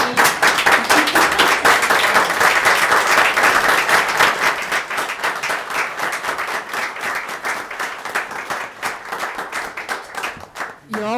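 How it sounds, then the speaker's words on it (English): A school board meeting audience gives teachers a standing ovation, loud sustained clapping that fills the room, gradually thinning toward the end, with cheers and voices mixed in. "we need to give a round of applause and standing ovation to our teachers"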